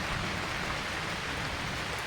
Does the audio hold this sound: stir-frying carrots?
no